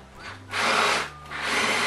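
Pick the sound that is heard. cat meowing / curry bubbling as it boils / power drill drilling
power drill drilling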